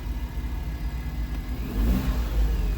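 A Smart Fortwo with a newly fitted ram air intake revs its engine in a steady, mid-pitched drone that swells louder toward the end, close by with no talking.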